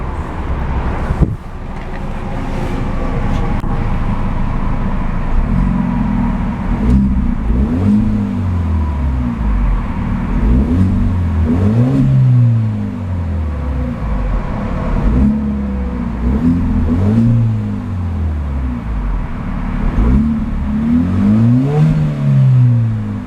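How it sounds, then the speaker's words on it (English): A 2014 Hyundai Genesis Coupe 2.0T's turbocharged 2-liter four-cylinder idles, then is blipped through a series of quick revs, each rising and falling in pitch, recorded close with some wind noise. "a few quick revs of that 2-liter turbocharged 4-banger"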